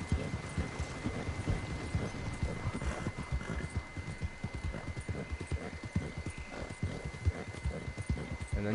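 Horse hooves clip-clop in a steady galloping rhythm throughout, with occasional whinnies, while riding in the video game Red Dead Redemption 2; loud and continuous with no speech.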